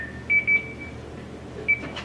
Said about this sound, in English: And it beeped his phone.